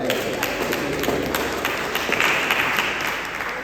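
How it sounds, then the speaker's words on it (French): A church congregation applauds for Jesus with sustained, dense clapping from many hands, close and lively throughout with no pause. "On acclame Jésus pour nous."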